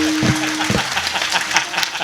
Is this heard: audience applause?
yes